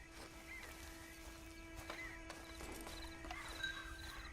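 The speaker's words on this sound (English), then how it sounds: "Come back here and get this horse." Horse hooves clip-clop and a horse whinnies in the Red Dead Online video game, faint and distant against a quiet ambient background with a steady tonal hum.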